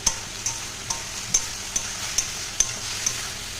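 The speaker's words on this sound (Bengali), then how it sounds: "তো এবার এটা নাড়িয়ে দেবো" Ridge gourd curry with salt, turmeric, sugar and green chillies stirred in a pan, a spoon scraping in about eight evenly spaced soft clicks over a faint steady sizzle, close and quiet, with no talking.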